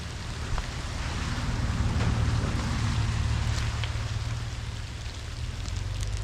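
Rain falls steadily on a 2024 Toyota Tundra on the narrow shelf road up Mount Antero, a continuous dense hiss with a low rumble underneath and a few scattered drop ticks.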